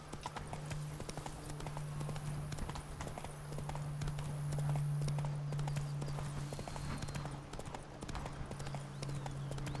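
Horse hooves clip-clop steadily in The Witcher 3 as a rider crosses a narrow bridge, a quiet, even walking rhythm over a constant low hum of game ambience.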